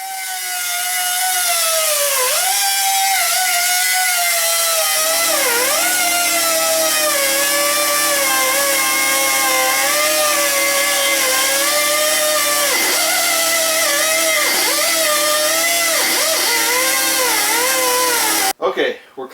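An abrasive cutting disc, beginning to wear, grinds through a car's steel K-member in a loud, steady whine that keeps bending and dipping in pitch as the cut loads it. Faint talk sits underneath, and the noise stops abruptly near the end.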